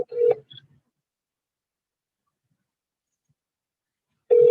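A telephone call ringing out unanswered: a short ringback tone burst at the start, a long stretch of silence, then the next ring tone beginning at the end.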